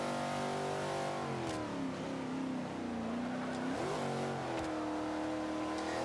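A 427 Shelby Cobra, a B-class car in the Forza 5 racing game, revs and accelerates loudly through rising and shifting engine tones that hold steady from start to finish.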